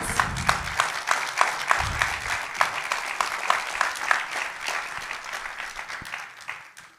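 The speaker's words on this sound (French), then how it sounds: "un tonnerre d'applaudissements pour celle que l'on nomme Adélaïde" Applause at a political rally in Sarcelles greets a woman being welcomed to the stage: a sustained round of dense, crisp clapping from a crowd, steady and moderately loud for several seconds before trailing off.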